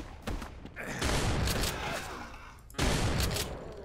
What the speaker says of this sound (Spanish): ¿Quién me está disparando?